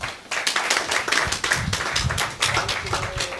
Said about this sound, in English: So, please, let's rise up and give him a round of applause.